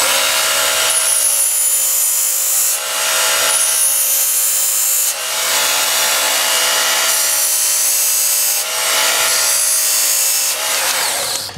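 A Work Sharp tool and knife sharpener grinds the edge of a battered tomahawk. It makes a loud, continuous abrasive whine, broken into roughly five long passes with short dips between them, and no one speaks.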